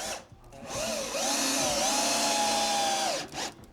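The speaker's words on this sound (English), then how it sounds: "while you're putting the rest of those screws in" A power drill drives screws into wood cabinets during a Victorian house restoration, its motor whirring steadily for about two seconds with the pitch shifting under load, close and loud.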